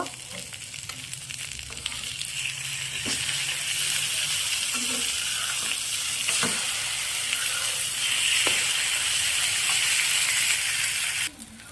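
An egg and eggplant dish fries in a pan after being flipped, giving a loud, continuous sizzle close by with scattered pops and faint utensil scrapes, under quiet intermittent talk.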